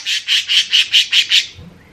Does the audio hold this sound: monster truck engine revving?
no